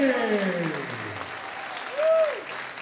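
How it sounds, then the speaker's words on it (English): Crowd at a fight night event applauding both fighters after the winner is announced, a short burst of clapping under a ringside announcer's amplified voice. "big round of applause for both these fighters"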